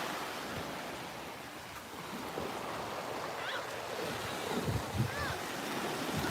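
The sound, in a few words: waves on a Florida beach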